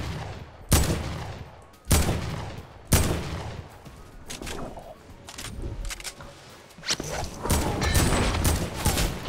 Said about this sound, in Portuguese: olha esse tiro que eu erro